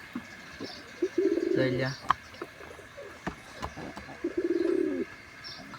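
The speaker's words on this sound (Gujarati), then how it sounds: "કાળા કબૂતરના બચ્ચા છે." Young black pigeon chicks and adult pigeons in a rooftop pigeon-breeding setup give soft, low cooing calls in two bursts, with a person talking nearby over them.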